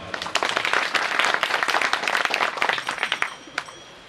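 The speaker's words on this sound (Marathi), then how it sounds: "तेवढ्या जोरात टाळी वाजवा." Audience at a village kirtan claps hard and fast together, a dense loud burst of many hands that thins into scattered claps near the end.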